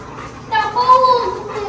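A dog whimpers indoors, giving one brief, high, wavering whine that rises and fades over about a second.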